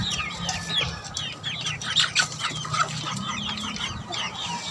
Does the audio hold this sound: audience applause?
no